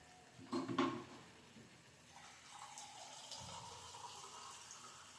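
Water poured from a glass into a pot of rice, a short splashy gush followed by a softer, steadier trickle and light sloshing close by.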